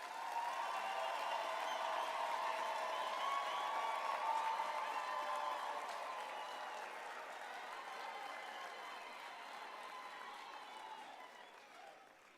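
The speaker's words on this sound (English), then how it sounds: "Can we just give our graduates a final, real," A graduation ceremony audience gives a long, steady round of applause for the graduates, dense and fairly distant, holding evenly for several seconds before slowly fading toward the end.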